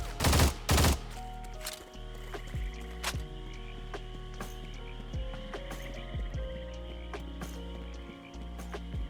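Gunfire from a weapon in the video game Stalcraft: a quick loud burst of shots near the start, then scattered single reports over a steady low game hum.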